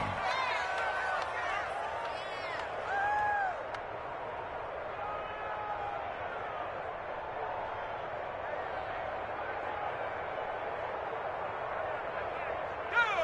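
A packed stadium crowd at a Colts football game keeps up a steady, dense roar for the whole stretch, with a brief swell and a few whistle-like tones early on. No clear voice stands out above the noise.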